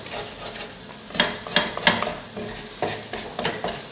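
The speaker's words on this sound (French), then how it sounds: "On mélange notre sucre et notre beurre." Sugar and butter being stirred in a pan for caramel, bound for caramelised popcorn: a soft steady sizzle with a few scraping stirs of the spoon, close up and with no talking.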